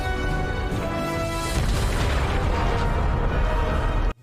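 A loud, sustained rumbling explosion in space in the Starfield video game fills the scene with dense booming roar, holding steady for several seconds before cutting off abruptly.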